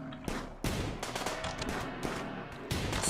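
Gunfire in the video game Rimworld during a tribal colony fight, several sharp shots and bursts spaced irregularly, close and moderately loud over a low background rumble, with no talking.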